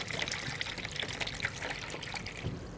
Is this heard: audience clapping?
no